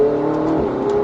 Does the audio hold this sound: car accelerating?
yes